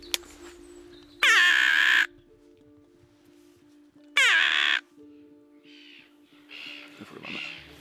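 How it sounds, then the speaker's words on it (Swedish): Crow descending toward an owl decoy during a crow hunt, giving two loud, harsh caws a few seconds apart, then softer calls and rustling over a faint background hum. "Kommer en kråka ner här."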